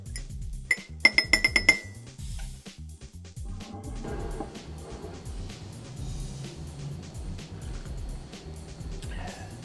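A spoon clinks briskly against a drinking glass in a quick cluster of bright taps, then softer scraping stirring continues under a low background rumble.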